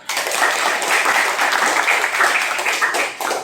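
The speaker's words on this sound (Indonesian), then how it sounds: "ya tepuk tangan" A classroom of students claps together after a civics lesson, a short loud burst of dense applause lasting a few seconds.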